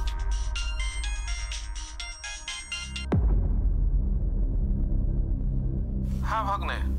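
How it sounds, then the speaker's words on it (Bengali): A mobile phone ringtone plays a bright, repeating melodic pattern for about three seconds in a household scene from a Bengali TV drama. It cuts off abruptly, leaving a low room hum, and a voice speaks near the end. "নিশ্চয়ই বর্ণমালা ওই প্রেমিকটা ফোন করেছে।"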